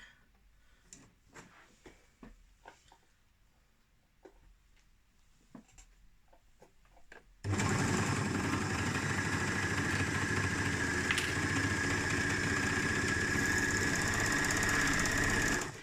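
A serger stitches a serged seam, running loud, steady and continuous after a quieter stretch of small handling clicks and taps for the first seven seconds, then stopping at the end.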